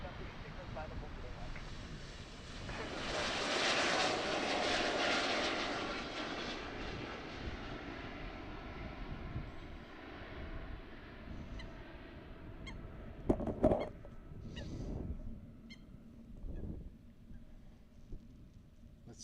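A KLM airliner departs Amsterdam airport bound for Dublin, its jet engine roar swelling and fading at a distance, with faint honking birds and a few sharp clicks near the end.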